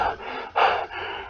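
Heavy, labored breathing from an injured man in an audio drama: two close, raspy breaths, the second a sharper, louder gasp, with a softer exhale trailing after.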